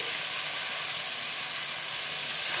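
Fried fish head sizzles with a steady, bright hiss in oil and fried spice paste, with fish oil added, in a bhetki fish head and cabbage dish. The frying sounds alone, close and continuous.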